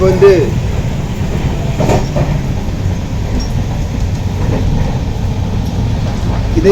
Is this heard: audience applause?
no